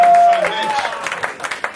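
Audience clapping and crowd noise at a stand-up comedy show, a fairly loud burst at first that thins into scattered claps, with voices and some tonal sound mixed in.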